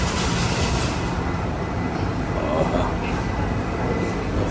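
A Singapore metro train at a station, a loud, steady rumble of rail cars and rolling wheels filling the platform, with a faint voice talking under the noise.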